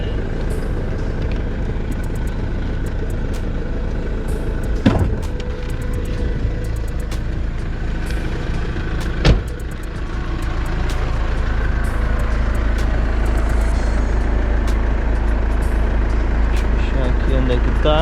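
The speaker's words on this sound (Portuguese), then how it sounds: "Motorzão diesel, turbo diesel." Turbo-diesel 2.1 litre car engine idling steadily and close, a constant low rumble with a couple of brief knocks, under someone talking.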